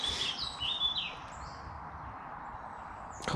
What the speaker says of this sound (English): Just the birds are so much more chatty.